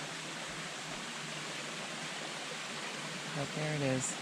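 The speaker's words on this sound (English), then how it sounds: "And the third and final waterfall is Evans Fall" Tiny Evans Fall, the last of a triple set of waterfalls in Ice Gulch, gives a steady, soft broadband rush of falling water throughout, with a voice speaking briefly near the end.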